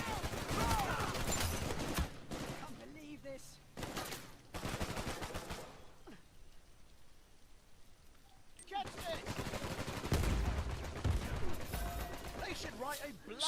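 Gunfire in Uncharted 4 multiplayer: loud, dense bursts of rapid shots and mechanical clatter in two stretches, separated by a quieter gap.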